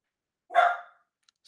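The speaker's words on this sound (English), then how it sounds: "we got a upset puppy right here in the background" An upset puppy gives a single sharp bark in the background, short and fairly close, with near silence around it.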